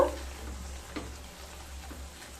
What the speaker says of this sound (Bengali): আবারও খুব ভালো মতো কষিয়ে নেব।